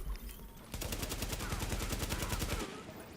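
Rapid automatic AK rifle fire in a first-person shooter video game, a fast burst of evenly spaced shots lasting about two seconds, loud and close, with a quieter lead-in and tail.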